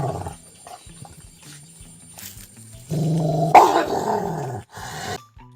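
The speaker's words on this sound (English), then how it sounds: "Dog growling." A dog growls in low, rumbling bursts, first in short broken grumbles and then in a louder, sustained snarl before trailing off, close and alone without talk.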